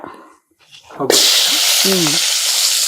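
Onion dropped into hot oil for a chicken liver fry: after a quiet moment with a brief voice, a sudden loud burst of sizzling breaks out and holds steady and close, with a few faint voiced sounds over it.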